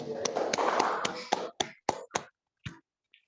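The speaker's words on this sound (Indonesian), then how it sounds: "kita beri tepuk tangan untuk Financial Joy." A small school class gives brief applause after a presentation: a short burst of clapping that quickly thins into a few scattered single claps.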